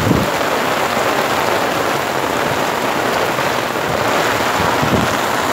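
Heavy downpour drumming steadily on a tent on the Sea of Azov coast during a storm, a dense, continuous close hiss of rain with no talk.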